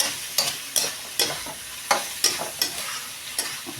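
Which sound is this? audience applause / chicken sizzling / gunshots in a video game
chicken sizzling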